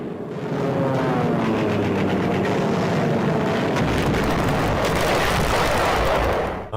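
World War II kamikaze warplanes diving at a ship near the Philippine Islands, a loud, continuous engine roar that fills the whole stretch without a break.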